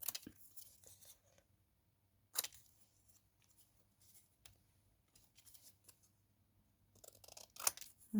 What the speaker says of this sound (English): I'm risking my life cutting it with my scissors without using the trimmer